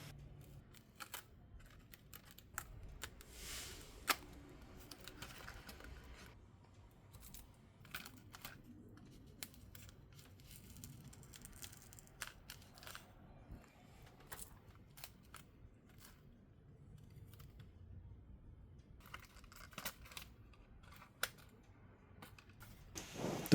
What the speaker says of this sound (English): Now I go through the other half and remove all the tape.